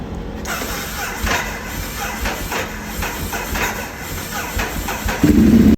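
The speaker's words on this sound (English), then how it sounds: "when you're starting the bike, when you're checking it, it starts near instantly" A Ducati Hypermotard 821 motorcycle starting: a hissing, uneven run of mechanical noise ends in a loud engine catch at the very end, close up, with no talking.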